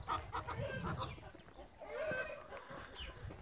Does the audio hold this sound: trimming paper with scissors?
no